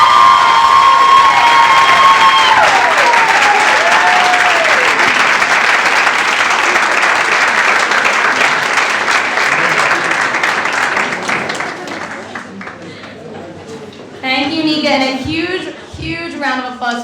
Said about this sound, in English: round of applause for our speakers here today